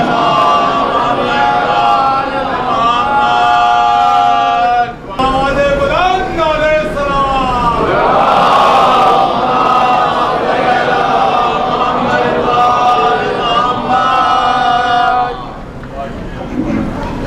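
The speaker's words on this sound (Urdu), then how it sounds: "آپ حضرات سے گزارش ہے بلند آواز میں نعرے صلوات پڑھیے۔" A large crowd loudly chants salawat slogans in unison at a gathering of Ahlebait TV, with voices rising and falling in a long, continuous surge.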